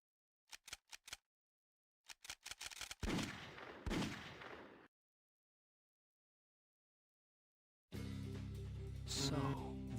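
In the video game Shadow E3, a built-in cheat command gives off short rapid clicking bursts, followed by a louder crunchy noise, a stretch of silence, then a sustained burst of game sound.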